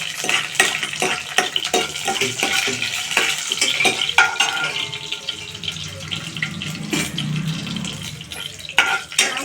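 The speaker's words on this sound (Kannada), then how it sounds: "ಒಣಮೆಣಸು ಹಾಕಿ ಚೆನ್ನಾಗಿ ಫ್ರೈ ಮಾಡ್ಕೋಬೇಕು" Dried red chillies fry in a pan with a busy crackling sizzle, broken by repeated scraping stirs and clinks of a spoon against the metal, close and fairly loud.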